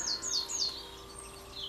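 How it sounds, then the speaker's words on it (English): Outdoors, a bird sings a few quick, high chirping phrases close together near the start, then the song thins to faint calls over quiet background ambience. "So bird song everywhere."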